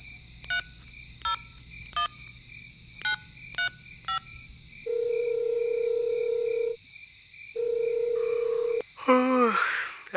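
A telephone call at night: several short keypad tones tapped out one by one, followed by two long steady ringback tones separated by a pause, then a brief burst of rustling noise at the end.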